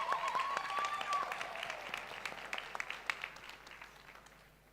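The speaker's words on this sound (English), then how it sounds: "Please give them a round of applause." An audience at a university distinguished alumni awards ceremony gives a round of applause, many hands clapping in a hall, strong at first and gradually thinning out.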